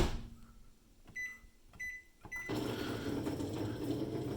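A microwave oven heating dried Maruchan instant noodles: several short beeps as buttons are pressed, then the oven starts with a steady mechanical hum that continues to the end.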